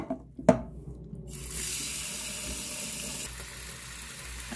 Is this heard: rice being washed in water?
yes